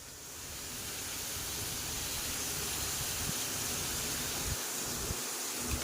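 Masala spices frying in a pan with mashed potatoes about to go in, a steady broadband sizzle close up that runs evenly throughout, with a few faint low knocks near the end.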